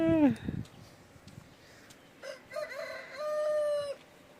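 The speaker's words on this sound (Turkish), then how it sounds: "Sana tavuk, horoz her şey var ya." At a rural farmyard a rooster crows, a sharp rising call that is followed later by a second long crow, with faint clucking and a voice speaking in the background.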